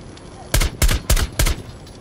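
Four sharp, loud gunshots ring out in quick succession in a Rainbow Six Siege match, evenly spaced bursts of close weapon fire over faint game ambience.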